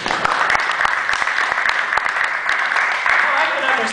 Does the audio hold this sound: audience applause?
yes